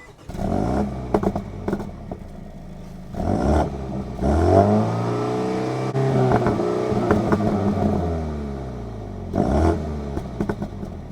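A JCW Mini Countryman ALL4 with a valved exhaust revs repeatedly, with several short blips and then a longer rising pull that falls away, throaty and close, with no voices.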